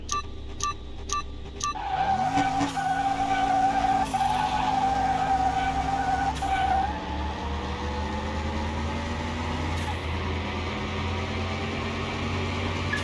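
A supercharged LS-engined car racing in Car Mechanic Simulator 21, its loud engine climbing through gears in steady drones while tires squeal, after a brief burst of clicks at the start.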